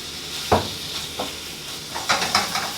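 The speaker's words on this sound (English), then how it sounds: "So I'm going to go ahead and saute my shrimp." Shrimp sautéing in a pan for shrimp and grits, with a steady faint sizzle and a few sharp clinks and scrapes of stirring, loud and close.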